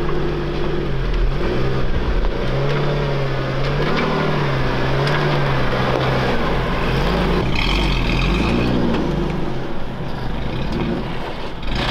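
An overland 4x4 rig climbs a jeep trail, its engine revving in repeated rising and falling surges with a loud, close drone beneath them.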